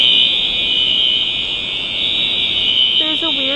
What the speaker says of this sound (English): There's a weird alarm going off right now, and it sounds like a fire alarm